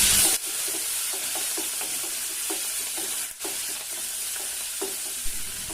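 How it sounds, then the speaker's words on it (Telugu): Urad dal, cashews, dried red chillies and curry leaves frying in hot oil as a tempering, a steady loud sizzle throughout with the scrape and clink of stirring. "2 ఎండుమిర్చి మరియు కొద్దిగా కరివేపాకుని వేసుకుని బాగా వేగనివ్వాలి."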